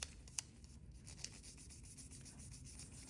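Liquid chrome being rubbed by hand onto a surface as it dries, giving a soft, continuous, faint scrubbing hiss with a few light taps, no voices.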